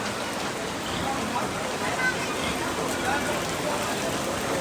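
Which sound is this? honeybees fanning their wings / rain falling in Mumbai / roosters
rain falling in Mumbai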